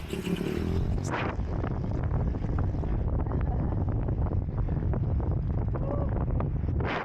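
Strong wind buffets the microphone during a cycling event in Clark, Philippines, in a loud, continuous low roar with gusty rumbles throughout.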